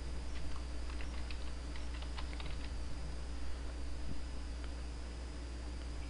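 Keys clatter on a computer keyboard in a quiet room as text is typed, a loose run of soft clicks through the first half, then sparser taps with one firmer key press, all over a low steady hum.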